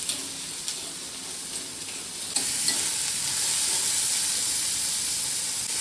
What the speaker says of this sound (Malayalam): അതിലേക്ക് 1 കപ്പ് അരിഞ്ഞു വെച്ച ചെറിയുള്ളി ഇടുകയാണ്. നല്ലപോലെ വഴറ്റണം.